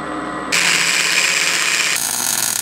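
A welder works on a harness bar behind the seats of a Jeep, giving a loud, steady buzzing crackle at close range that kicks in after a brief lower hum and continues without talk.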